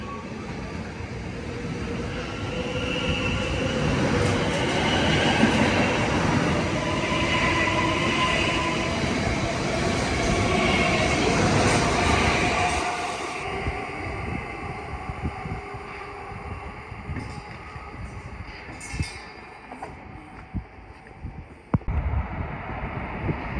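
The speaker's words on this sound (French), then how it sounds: "Passage de la TGV." A TGV high-speed train rushes past at Vaires-Torcy with a loud roaring whoosh that swells, holds, then drops away to quieter rail rumble and wind noise.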